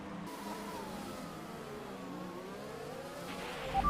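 An F1 car in the F1 2021 racing game pulls away for the formation lap, a steady engine drone rising in pitch, moderately quiet and continuous.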